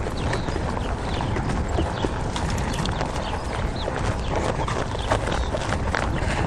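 A ridden horse's hooves clip-clopping at a medium walk toward a halt, steady close hoofbeats over a continuous broadband background.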